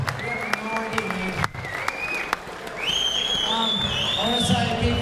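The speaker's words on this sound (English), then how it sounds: "Everyone should give them a round of applause, man." An audience at a featherweight title fight event claps and cheers in a continuous burst of applause with whistles and shouts, loud and sustained, with a voice speaking over it early on.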